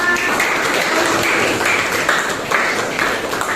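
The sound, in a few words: applause for the group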